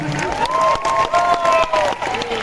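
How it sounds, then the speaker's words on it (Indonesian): Crowd at a PSI political rally applauding and cheering steadily, with a sustained sung or shouted tone riding over the dense clapping throughout. "Tepuk tangan buat kalian semua"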